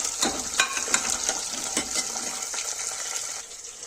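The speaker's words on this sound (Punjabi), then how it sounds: "ਆਪਣਾ ਜੀਮੀ ਕੰਦਾ ਜਿਹੜਾ ਹਲਕਾ ਹਲਕਾ ਬਰਾਊਨ ਹੋਣ ਲੱਗ ਗਿਆ ਤੇ ਆਪਾਂ ਇਸ ਨੂੰ 4-5 ਮਿੰਟ ਹੋਰ ਲੋ ਫਲੇਮ ਦੇ ਉੱਪਰ ਪਕਾਵਾਂਗੇ" Elephant foot yam pieces turning light brown fry on a low flame, giving a steady bright sizzle with a few sharp spatters and stirring scrapes early on, with no talking.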